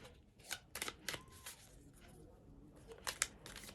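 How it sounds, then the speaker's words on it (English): A deck of tarot cards being shuffled in quick, papery riffles and flicks, close by, with bursts of rustling and short pauses between them. "Sometimes the cards want to shuffle a lot."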